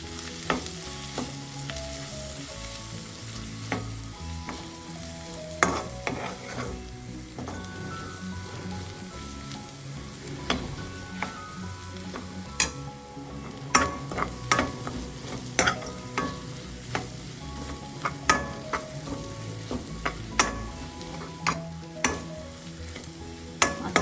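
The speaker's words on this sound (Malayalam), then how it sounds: "അത് ഓയിലിലോട്ടൊന്ന് മിക്സ് ചെയ്യാം. പച്ചമണം മാറുന്നവരെ നമുക്കൊന്ന് മിക്സ് ചെയ്യാം." Spice masala stirred in hot oil for a kingfish masala roast, a continuous close sizzle with frequent sharp spatula scrapes and knocks against the pan.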